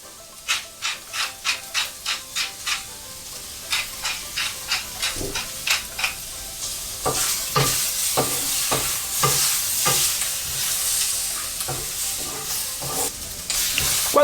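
Vegetables for yakisoba being stirred in a hot pan, with rhythmic scraping strokes of a utensil against the metal at first, then a steady frying sizzle under continued irregular stirring.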